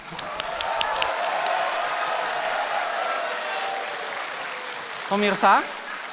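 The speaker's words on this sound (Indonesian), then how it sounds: "Kita tepuk tangan." Audience applause at a 2014 Indonesian presidential and vice-presidential debate, sustained clapping filling the hall for several seconds, with a voice breaking in near the end.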